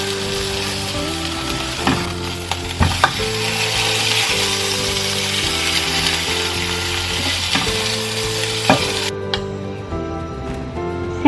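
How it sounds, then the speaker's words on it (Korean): Flounder fillet frying in butter in a pan over the lowest heat, a steady soft sizzle and crackle running throughout with occasional light pops and scraping, no voices. "버터로 광어를 구워주세요"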